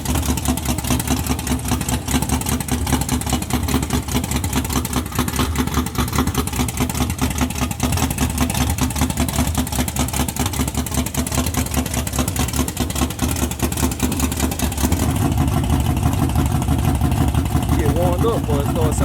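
A Chevy engine running on racing gas warms up at a steady idle, a continuous low rumble that grows louder and fuller near the end, with people talking over it.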